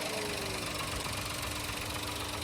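A new 2023 Toyota Wigo E automatic's engine runs steadily at idle, a constant dense mechanical hum and faint knocking with no break and no voices.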